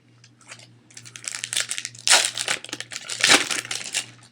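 A foil wrapper on a 1994 Upper Deck Fun Pack of baseball cards is torn open up close, giving loud crinkling and ripping over a faint steady hum.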